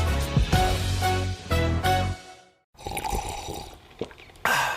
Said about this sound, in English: That's not just the sound of that first sip of Morning Joe.